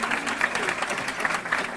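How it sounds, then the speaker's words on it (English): Audience at a charity fundraiser gala clapping in sustained, even applause, moderately loud throughout with a faint murmur of voices beneath. "Let's give them all a round of applause"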